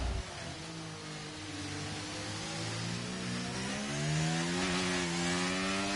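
Formula 1 cars, a Ferrari and an AlphaTauri, race past on the straight, their high-revving engines whining in a continuous, rising and falling drone with shifting pitch.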